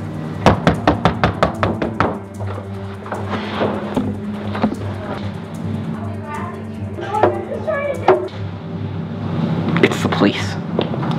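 Sharp knocks strike a door in quick irregular bursts, loud and close, with urgent voices talking over and between them in a tense scene during an evacuation.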